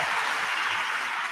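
Applause sound effect played during a live stream, a steady faint hiss of clapping with no voices over it.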